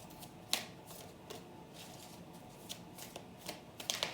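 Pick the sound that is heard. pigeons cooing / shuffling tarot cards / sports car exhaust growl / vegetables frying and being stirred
shuffling tarot cards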